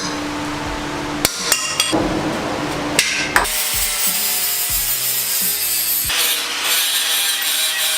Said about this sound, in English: Alright, so we got our holes drilled out.